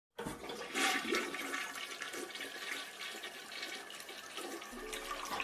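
A toilet flushes close by, starting with a sudden loud rush of water that settles into a gurgling, swirling drain and refill. No one speaks.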